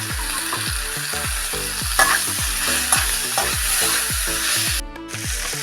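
Fried vegetables tipped back into a hot frying pan and stirred, a steady sizzle under a regular series of scraping, clanking strokes against the pan, close up with no talking.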